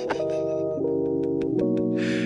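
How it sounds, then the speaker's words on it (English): A game over sound effect plays alone: a few sustained electronic tones step down in pitch across about two seconds, with faint clicks between them and a short burst of hiss at the end. "Oh, listen, it's the game over sound."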